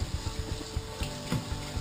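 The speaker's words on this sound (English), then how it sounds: "You got your water running." A sink tap runs water at a hand-washing basin, a steady splashing hiss with small rhythmic pulses and no voices.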